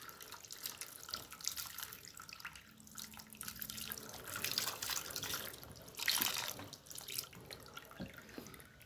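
Yamuna water poured during a ritual bathing of a Krishna deity on Radha Ashtami, a steady splashing, trickling flow into a vessel with louder surges, close by and without talk.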